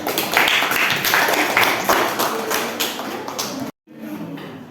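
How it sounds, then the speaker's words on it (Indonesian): A classroom group clapping hands at a teacher's prompt, a dense, fairly loud patter of claps that runs for a few seconds, then cuts off abruptly with faint room noise after. "Ya bagus, tepuk tangan"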